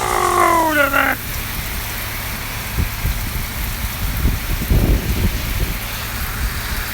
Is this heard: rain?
yes